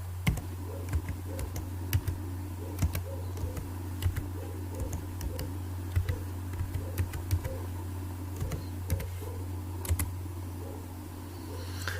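A password is entered on a computer keyboard, with soft, irregular key taps spread over a steady electrical hum, sounding close and quiet, with no talking.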